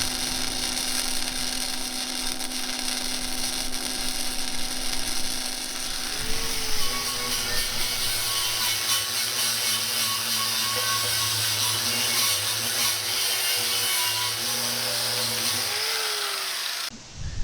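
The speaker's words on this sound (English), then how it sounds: "I'm going to grind off this primer so I'll get a good clean weld" A grinder works primer off scrap metal steel, giving a steady high whine with a shifting pitch as the disc bites into the surface, loud and continuous for most of its length before cutting off abruptly.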